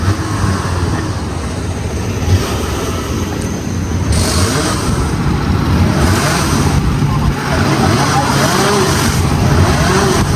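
Go-karts race around a track in Japan, their engines making a steady, continuous roar that swells and fades as they pass, with voices talking over the noise throughout.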